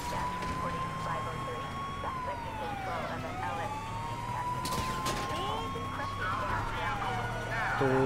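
Police car siren in the video game GTA 5, wailing steadily throughout with rising and falling sweeps amid game traffic noise and engine rumble, getting a little louder near the end.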